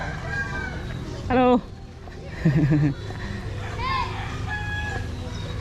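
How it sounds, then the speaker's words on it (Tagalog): Fighting cocks kept by residents along a coastal road in Davao crow and cluck nearby in short bursts, with other bird calls around, over steady outdoor background noise and a brief spoken greeting. "May mga alagang mga manok, panabong na ito pa."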